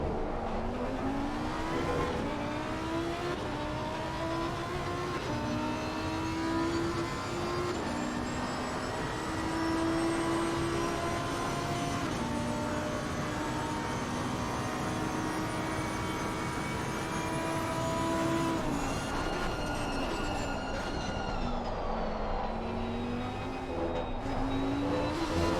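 A race car's engine on a flying qualifying lap at Monza, a continuous loud whine rising and falling with gear changes over about twenty-five seconds, steady and close with no voices.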